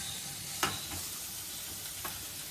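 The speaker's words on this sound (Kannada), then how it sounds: "ಈಗ ಸ್ವಲ್ಪ ಹೈ ಫ್ಲೇಮಲ್ಲೇ ಫ್ರೈ ಮಾಡ್ಕೊಳ್ಳಿ, ಅವಾಗ ಫ್ಲೇವರ್ ಚೆನ್ನಾಗಿರುತ್ತೆ" Wheat pasta frying on high flame in a pan, a soft steady sizzle with a couple of brief scraping stirs, fairly quiet and close, with no talking.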